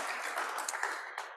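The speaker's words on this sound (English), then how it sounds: "Let's give a big round of applause for Phil Kirk" Faint, brief clapping from an audience at a Kiwanis club meeting, a soft patter of hands heard from a distance without speech.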